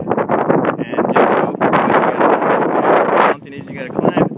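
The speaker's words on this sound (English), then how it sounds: "I made it to the top and it's super windy, so I apologize if you can't hear me right now" Loud, blustery wind roars across the microphone almost throughout on the summit of the Pill Box Hike in Kailua, Hawaii, with a voice talking over the buffeting gusts.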